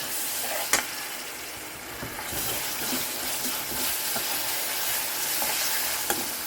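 Sliced onions frying in a pan while ginger and garlic are added for a kanava (squid) roast gravy, giving a steady close sizzle with a few sharp scraping stirs.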